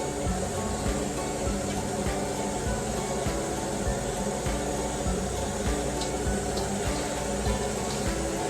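Warm water poured into a container of dried peppers, a continuous splashing, running stream close by at steady loudness for several seconds with no talking.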